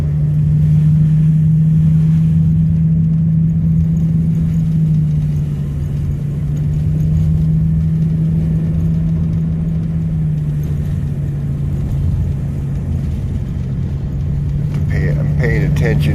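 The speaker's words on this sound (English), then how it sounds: "Kind of an art driving on the roads like this when they're wet." Car driving on wet roads, a steady mid-pitched engine drone with a constant hiss of tyres on wet pavement, loud and close throughout, with a brief higher rattle near the end.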